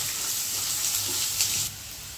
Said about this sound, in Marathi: बारीक चिरलेला कांदा व्यवस्थित परतवून घ्यायचा आहे